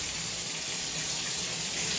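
Water streams steadily from a shower head being tested during a home plumbing check, a constant, even hiss of spray that is fairly loud and alone throughout.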